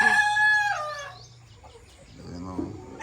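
Chickens on a farm cluck and a rooster crows loudly up close at the start, then softer clucking and low farmyard sounds continue with no talk.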